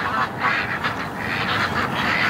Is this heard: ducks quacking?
yes